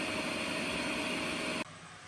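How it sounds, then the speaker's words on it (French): A robot vacuum self-cleans its main brush with a steady, loud whirring roar that cuts off abruptly near the end, leaving a quieter hum. "Commencez l'auto-nettoyage de la brosse principale."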